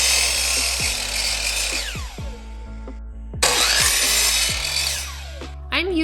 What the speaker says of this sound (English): To get started, I'm going to measure and cut the panels.